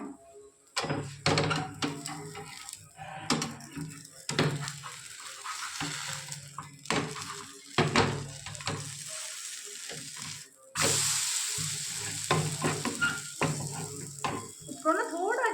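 Semolina breakfast cooks in a pan, a constant sizzle broken by repeated scraping, tapping and clattering as a utensil works at it and turns it over, ending with a louder burst of frying hiss.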